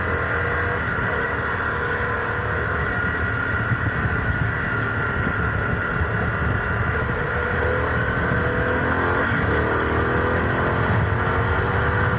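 A Harley-Davidson Pan America Special motorcycle accelerates on an open road with a continuous loud engine drone and wind rush, heard from the rider's position, with no talking.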